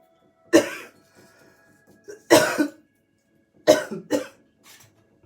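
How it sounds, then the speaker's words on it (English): A person with a lingering cough after a week of illness coughs four times in separate bursts, two of them coming close together, each one loud and near with quiet breathing and small throat sounds between. "I'm still coughing, as you guys can hear"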